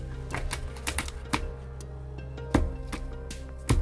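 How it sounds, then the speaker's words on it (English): Rapid papery riffling and clicking in short bursts as cards are shuffled by gloved hands, with a few sharper snaps, close by and fairly loud. "I'm going to attempt to shuffle with these gloves on."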